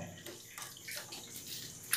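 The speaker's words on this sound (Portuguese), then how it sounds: "Ligou a torneira, ó." Tap water runs steadily into a sink during hand washing, a soft continuous splashing stream with faint drips, fairly quiet and close.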